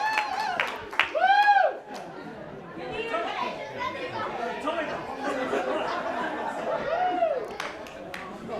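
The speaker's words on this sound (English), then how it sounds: "He gets a rousing applause." Grandstand crowd at a rugby match cheering and clapping, loose scattered applause mixed with excited chatter, shouts and laughter, with one or two whoops rising above the general noise.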